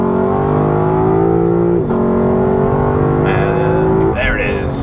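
A Lexus LC500 launching hard during a 0-100 acceleration test, its V8 note climbing steadily through the gears with brief drops at each shift, loud and heard from inside the cabin with someone speaking over it.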